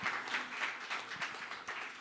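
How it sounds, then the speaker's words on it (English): An audience applauds after a seminar talk, a steady, fairly quiet wash of many hands clapping together without a break. "So just a big round of applause to Francisco."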